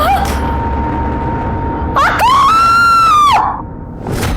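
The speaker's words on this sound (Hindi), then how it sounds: "हम भी इनकी चीख सुनकर ही आए थे" A woman lets out a single long, shrill scream that holds for over a second before breaking off, preceded by a steady tone and heard over low background rumble.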